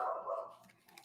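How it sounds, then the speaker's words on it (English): A single dog barks once, faint and somewhat distant, with a brief trailing yip, in an otherwise quiet indoor setting with no talking during it. "stupid dogs."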